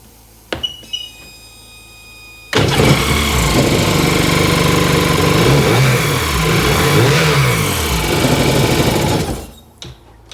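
A 2002 Sea-Doo GTX DI engine cranks after a few clinks, then fires and runs loudly for several seconds with rising and falling revs before cutting off.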